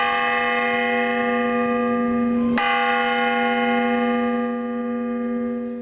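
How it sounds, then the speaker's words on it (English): A memorial bell rung by a city mayor at an outdoor remembrance for shooting victims: one clear, strong strike whose long ringing tone sustains steadily and slowly fades, with no talking. "Mayor Jonathan Rothschild rang a bell for each of the victims."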